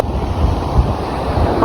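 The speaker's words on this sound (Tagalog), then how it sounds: "Tapos super lalaki ng alon." Big ocean waves roll onto a wide, sandy beach in a constant loud wash, mixed with heavy wind buffeting the microphone.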